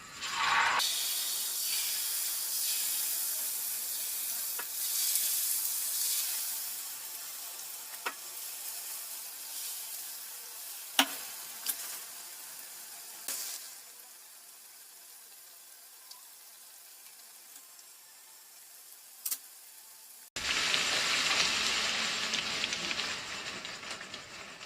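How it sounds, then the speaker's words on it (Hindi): Pakoras deep frying in hot oil: a steady, moderately loud sizzle that swells as the batter goes in, eases to a quieter bubbling hiss, then surges loudly again near the end, with occasional clinks. "अब इसमें हम डालेंगे पकोड़े।"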